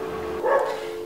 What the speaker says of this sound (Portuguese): agora tem um cachorro latindo pra ajudar